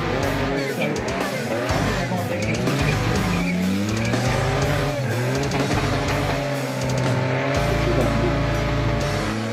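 A car doing a burnout on a concrete pad at a burnout competition, its engine roaring loudly and steadily for the whole stretch while tires squeal in rising and falling pitch over the constant din.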